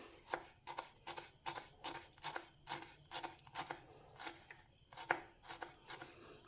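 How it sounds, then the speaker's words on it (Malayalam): Knife chopping ingredients into small pieces on a board for an oats omelette, a steady run of about a dozen crisp, evenly spaced chops, close and fairly quiet. "നമ്മൾ ചെറുതാക്കി കട്ട് ചെയ്യാൻ പോവാണ്."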